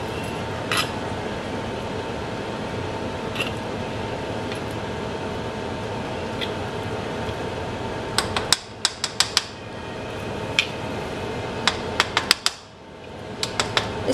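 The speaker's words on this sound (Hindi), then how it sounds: "ये मैंने पैन में डाल के तो इसको ना अच्छी तरह करके टैप कर लिया है" A cake pan filled with carrot cake batter is tapped against a counter, giving a few sharp knocks, then a quick cluster of taps near the end over a steady background hum.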